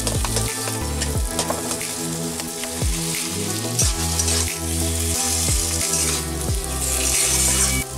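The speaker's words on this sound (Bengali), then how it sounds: "আলুর মশলাটা অনেকটাই ভাজা ভাজা হয়ে গেছে।" Potato spice mixture for vegetable chops fries in a pan with a steady, close sizzle, punctuated by repeated soft clinks and scrapes of stirring throughout.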